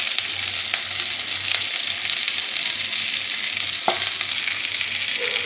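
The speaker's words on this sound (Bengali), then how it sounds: "আর আমি পেঁয়াজটা দিয়ে দিলাম। পেঁয়াজটা যখন একটু লালচে লালচে হয়ে আসবে তখন আমি রসুনগুলো দেবো" Onion frying in a pan, a steady loud sizzle close by, with a low pulsing hum underneath and a single clink near the middle.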